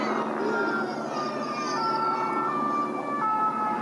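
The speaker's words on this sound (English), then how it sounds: "Warning siren blaring past the crowd as they watch" A wailing siren blares steadily at close range during the 2024 Pikes Peak International Hill Climb, its pitch sliding up and down over a busy rumble of engines and crowd noise.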